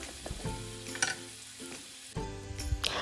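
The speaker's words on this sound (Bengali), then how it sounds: "তেলটা গরম হলে এটার মধ্যে পেঁয়াজ দিয়ে নিচ্ছি আর পেঁয়াজটাকে একটু ভেজে নেব" Chopped onion hits hot sunflower oil in a pan and sizzles steadily, with a brief stir or clatter partway through. The frying hiss stays close and even throughout, with no voices.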